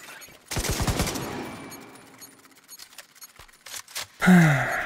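Double turret firing in The Division: a fast burst of rapid automatic shots, loud and close, then scattered fainter pops and clicks, followed by a voiced groan-like sigh at the end.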